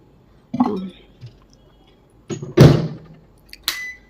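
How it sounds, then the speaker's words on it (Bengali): Bread goes into a microwave oven, with a few sharp thunks and clinks of the door and dish in short bursts separated by quiet moments. "তো চলো মাইক্রোওয়েভে দিয়ে দিই"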